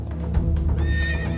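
A horse at a horseback archery training school in Kamakura, Japan gives a short, clear whinny over a brief run of hoof and movement noise, close and fairly loud.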